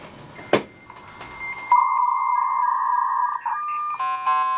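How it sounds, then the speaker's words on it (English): A USB dial-up modem dials into an FXS port on a Cisco router: a few clicks, then a steady sustained tone around the middle, followed by a warbling burst of multi-tone handshake at the end. "We're going to try to dial into our Cisco router here using a modem."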